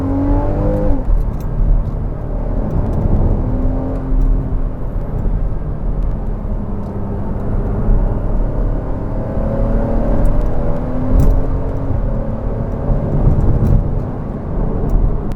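A Porsche Cayman S 981 with sports suspension accelerates hard through the gears on a winding switchback road, its engine droning steadily and climbing in pitch with each gear, with constant road and tyre rumble from inside the cabin.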